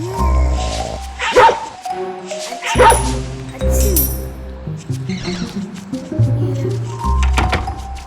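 Guard dogs in the Robbery Bob video game bark, yip and whimper loudly and repeatedly in close, overlapping bursts, mixed with game sound effects.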